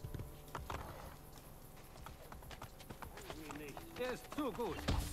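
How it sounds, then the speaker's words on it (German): Hooves clip-clop in the Assassin's Creed Brotherhood video game as a called horse arrives, soft steps growing nearer and louder, ending in a whinny, while someone talks in German over them. "ich kann ein Pferd rufen"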